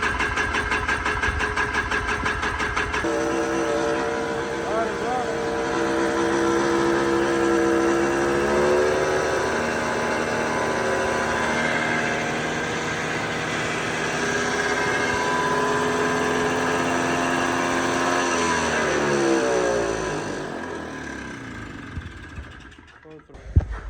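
A two-stroke Polaris Trail Boss 250 ATV engine runs with a buzzy, steady drone for about twenty seconds, its pitch wavering slightly before it sputters and dies.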